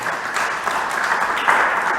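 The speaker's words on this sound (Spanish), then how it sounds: "Démosle un fuerte aplauso a nuestro Señor Jesucristo." Church congregation applauding Jesus Christ during a Spanish-English bilingual sermon, a steady wash of clapping that holds evenly and swells slightly near the end.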